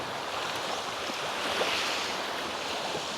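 Sea waves wash ashore at a beach resort in Tagnanan, Mabini, Davao de Oro, a steady broadband surf hiss with a light wind-like rush, no voices.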